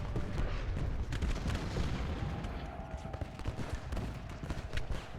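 Constant rumbling Civil War musket fire and artillery booms in the strategy game Ultimate General Gettysburg, dense and continuous like a distant battle, with a faint voice.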